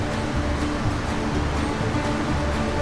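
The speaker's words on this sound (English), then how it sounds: "I think this is the most beautiful waterfall so far" Steady broadband rush of Vøringsfossen waterfall in Norway, a constant dense roar with no breaks, fairly loud and close.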